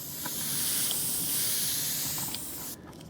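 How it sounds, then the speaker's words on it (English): An airbrush sprays weathering paint onto a model railway wagon in a steady, close, airy hiss that holds for a few seconds before stopping abruptly. "if you get the model at this sort of angle and do a pass or two with the airbrush"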